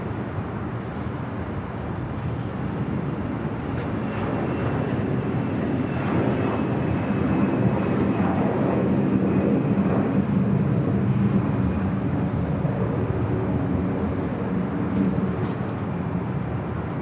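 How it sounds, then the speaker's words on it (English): A Boeing 737 MAX 9 arriving from Panama City touches down on LAX's south runway 25 left, a steady broad roar of jet engines and rushing air that swells slightly mid-way and holds at a fairly constant loudness throughout, with no talking. "737 MAX 9 coming up from Panama City, touching down there on the south side at 25 left."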